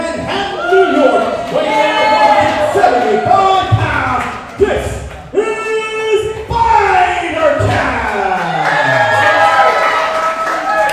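A wrestler gets a loud, continuous roar of cheering from a wrestling-show crowd at ringside, with shouts and voices mixed throughout the whole stretch.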